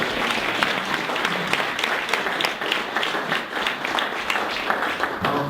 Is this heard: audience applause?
yes